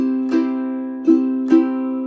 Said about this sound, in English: And you're going to be strumming like this.